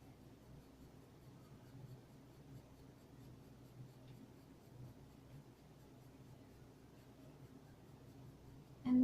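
An HB pencil makes soft, steady upward strokes on paper while shading lips in a drawing, a faint continuous scratching with a slight bump at the very end.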